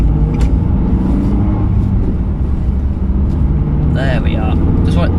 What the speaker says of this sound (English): That's just a lorry going past.